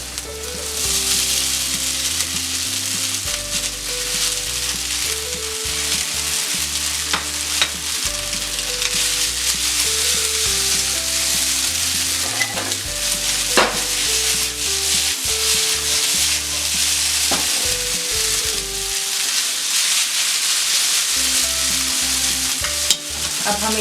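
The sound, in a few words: noodles being stir-fried in a pan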